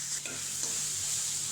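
Onion and green chillies fry in a pan for a curry, giving a steady, close sizzling hiss that holds evenly throughout, with no voices.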